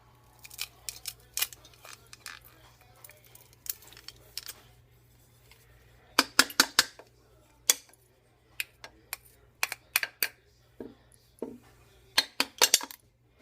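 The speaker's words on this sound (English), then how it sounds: "So I have that in the garlic press, and I'm just mashing it through." Garlic being mashed through a cheap Dollar Tree garlic press, heard as sparse metallic clicks and squeaky scrapes in irregular bursts, close and fairly quiet, with no one speaking.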